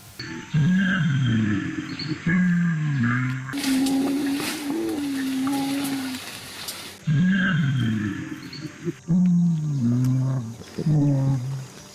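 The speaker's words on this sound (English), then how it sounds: "gorillas have also been recorded singing while they eat" Gorillas eating produce low, droning hums that rise and fall in repeated phrases from several animals, broken by a stretch of rustling noise before the humming resumes.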